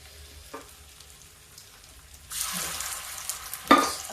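Cabbage kofta fry in shallow oil in a pan. A quiet background gives way to a sudden steady sizzle partway through, then a brief sharp clink near the end.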